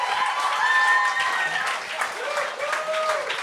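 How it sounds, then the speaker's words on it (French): Comedy-club audience applause at a Gong Show stand-up set, a steady wash of clapping with cheers and voices mixed in, fairly loud and continuous throughout. "Arrêtez d'applaudir!"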